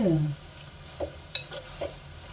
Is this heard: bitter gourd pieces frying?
yes